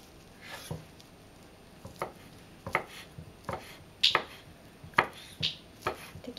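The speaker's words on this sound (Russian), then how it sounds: "Далее нарезаем крабовые палочки." Knife chopping crab sticks on a cutting board: a series of sharp, crisp thuds at an uneven pace, fairly close, with no talking.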